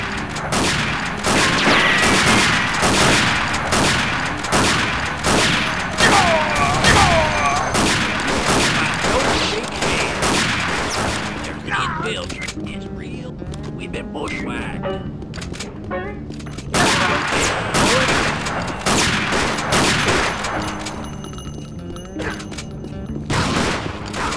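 Rapid gunfire and explosions fill an Unreal Tournament match on the Bad Lands map. Dense, loud bursts repeat almost continuously, with a brief lull midway, and speech and game sounds are mixed in.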